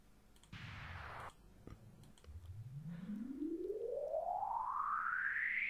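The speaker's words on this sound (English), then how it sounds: "I'm maybe add a riser, make it sound even cheesier" A synthetic riser sweeps steadily upward in pitch and grows brighter over several seconds, following a couple of short noisy electronic bursts.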